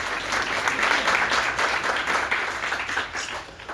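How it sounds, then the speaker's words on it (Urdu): Congregation at a Sunday church gathering applauding vigorously, a full steady roll of many hands clapping that swells and then begins to taper off near the end. "زوردار تالیاں اس کے کلام کے لیے بجائیں."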